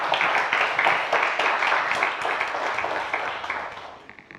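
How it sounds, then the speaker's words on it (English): An audience applauds lecturer Sara Diamond at a Friday afternoon lecture, a steady wash of many hands clapping that holds for about four seconds before tapering off at the end. "give her a nice round of applause"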